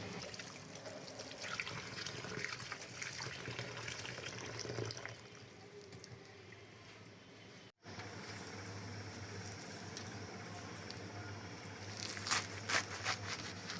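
Dried fish being rinsed in water in a home kitchen, a steady running-tap and sloshing wash sound throughout, with brief splashy clatters near the end and no talk.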